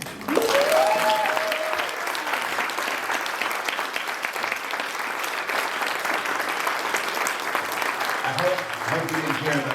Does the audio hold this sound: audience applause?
yes